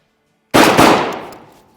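A single sharp blast from a Vepr-12 semi-automatic shotgun firing a 28-gram Azot cartridge, loud and close, bursting from silence and then ringing out in a decaying echo over about a second.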